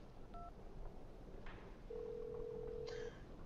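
Telephone dialing tones in the Syberia 2 video game: short keypad beeps, then a longer steady tone lasting about a second, clear and alone over faint background hiss.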